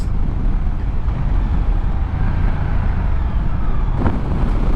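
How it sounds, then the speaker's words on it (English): A 2023 Moto Guzzi V100 Mandello engine while riding at cruising speed, a steady low drone heavily mixed with loud wind rush across the microphone, continuous throughout. "The sound you get from the engine stock is not doing this bike justice."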